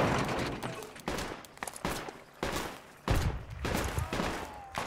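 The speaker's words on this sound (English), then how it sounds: "So I'll shotgun the crate." Rapid bursts of video game gunfire in a multiplayer shooter, several sharp loud blasts spaced irregularly with brief gaps between them and no voices.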